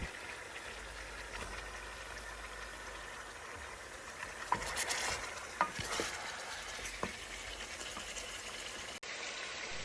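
Mutton bong meat frying in a pan, a steady low sizzle with occasional scraping and stirring strokes, fairly faint and heard without talk.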